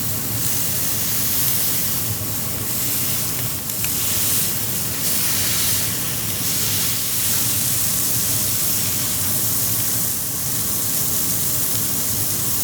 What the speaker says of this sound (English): Ah, that sizzle is exactly what we want to hear.